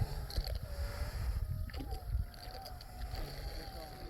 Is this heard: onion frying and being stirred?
no